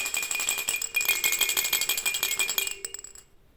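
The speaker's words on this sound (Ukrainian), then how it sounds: "Це брязкальце. Воно звучить ось так." A toy rattle shaken steadily for about three seconds, a fast bright clattering that slows and stops, heard close and alone.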